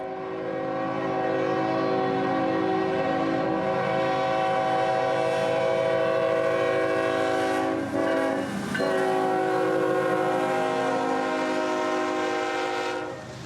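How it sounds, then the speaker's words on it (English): A Norfolk Southern freight train blows a long, loud, steady chord horn while rolling past close by, with the rumble and clatter of the cars underneath throughout. "Calling as G11, Norfolk Southern would show up with a train of their own"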